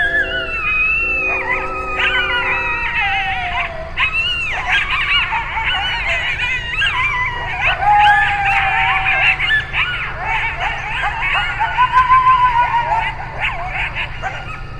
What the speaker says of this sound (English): It's a whole series of yips, barks, and howls that make kind of a cacophony of sounds